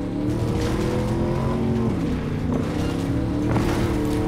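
Heavy car engine in the Cyberpunk 2077 video game revving hard and continuously during a badlands race, a loud steady roar with shifting pitch and brief tire squeals, no talk over it.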